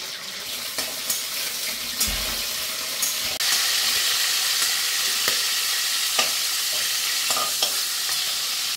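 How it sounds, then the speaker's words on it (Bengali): Cauliflower frying in oil in a pan for a vegetarian sago khichuri, a steady close sizzle with occasional clinks of a spatula stirring against the pan, no talking. "এবার আমি কপিটা ভেজে নিচ্ছি।"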